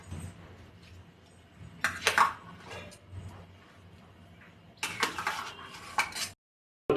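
Rice tipped into a cooking pot for khichuri, heard as two bursts of rattling grains and metallic clinks against the pot amid quiet kitchen background, ending abruptly.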